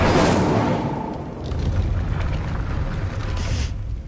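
The Incendio fire spell cast in Hogwarts Legacy, a loud whooshing burst at the start that fades into a rumbling crackle, followed by a second flare of fiery noise near the end.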